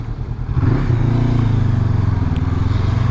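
A 2023 Honda CB500X pulls away, its engine rising from idle into a steady, close, pulsing drone with a rhythmic throb as it gathers speed, and no voice is heard.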